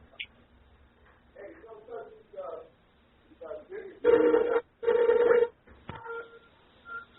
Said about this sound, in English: I'm calling you in to see if it will work.